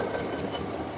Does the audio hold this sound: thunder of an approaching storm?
no